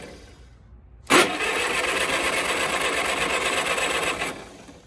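A 1942 Caterpillar D47J dozer engine catches abruptly and runs loud and steady for about three seconds, a rough, raspy clatter close by, then dies away, with no voices.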